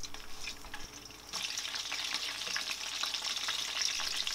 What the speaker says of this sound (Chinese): 先来炸虾油。